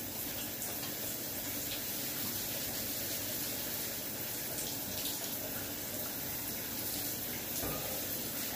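Steady running shower water, a continuous close hiss and splash that holds level from start to finish with no voices.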